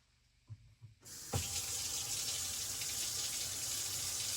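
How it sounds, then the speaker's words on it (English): A couple of soft knocks, then a tap opens and water runs steadily into a small sink tub, a constant hissing gush. "I'm going to turn the water on right here in my little tub, sink tub."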